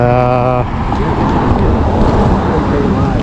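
Steady roar of busy road traffic in Montreal near roadwork, continuous and fairly loud, with a brief voice speaking at the very start.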